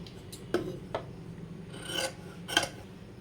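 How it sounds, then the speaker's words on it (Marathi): A strip of saree border being cut, heard as a few separate rasping, scraping strokes at an uneven pace, close by and moderately loud with quiet gaps between them. "ते आपण कट करून घेणार आहोत दीड ते दोन इंचाची पट्टी"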